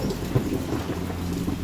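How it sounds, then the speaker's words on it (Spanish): Thunder rumbles low and steady beneath a constant hiss of heavy rain, with no voices, a dense stormy wash that stays loud throughout. "Luego desapareció entre los truenos de la lluvia."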